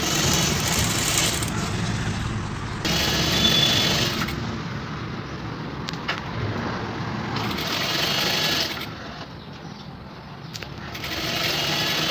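A sewing machine runs steadily while stitching double piping onto a neckline, a continuous mechanical whir with slight shifts in speed and brief lulls, with no talk.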